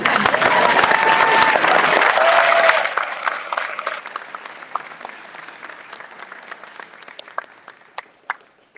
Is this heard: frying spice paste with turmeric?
no